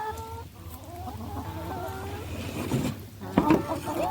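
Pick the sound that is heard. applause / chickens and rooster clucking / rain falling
chickens and rooster clucking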